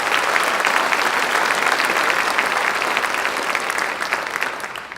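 Loud, sustained round of applause from a packed house at the Pankow Center honors night, dense clapping close and full before tapering slightly at the end.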